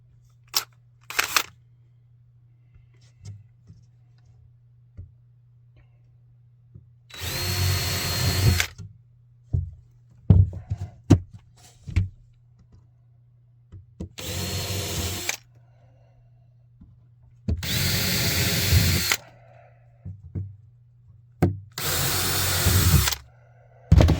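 A power drill drives small screws into wood boarding around master shower pipes and a valve. Four loud, close whirring bursts of a second or two each are separated by quiet gaps with faint handling taps.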